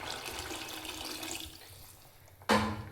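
Water poured into a pan of vegetable pulao base (curd, coriander and turmeric already fried in), arriving as one loud sudden splash and rush near the end after quieter kitchen background.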